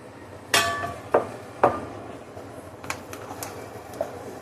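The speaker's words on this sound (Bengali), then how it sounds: "এর মধ্যে আমি ভেজে রাখা আলু দিয়ে দিব।" Fried potatoes dropped into biryani in a pot: three sharp metallic clinks of a spoon against the pot, followed by softer scattered taps, close by in a quiet kitchen.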